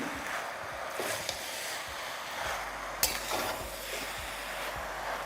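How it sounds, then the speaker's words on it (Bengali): Tomato curry mixture with sugar stirred in a pan, giving a steady soft scraping and sizzling texture with repeated light strokes, close up and moderately quiet, no voices. "ব্যাস তারপর লাস্টবারের জন্য এটাকে ভালো করে একবার মিশিয়ে নিন।"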